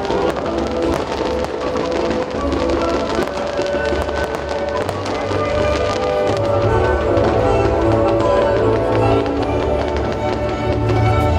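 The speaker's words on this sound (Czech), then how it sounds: "Pak nebe nad náměstím rozářil velkolepý ohňostroj." Fireworks explode over a town square in Plzeň in a rapid, continuous barrage of booms and crackles, loud and sustained, with faint crowd noise beneath.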